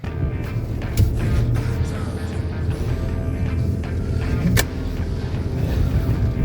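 An Audi Q7, just back from suspension work, pulls away with a steady low engine and road rumble, close and loud, with a sharp knock near the start and another partway through.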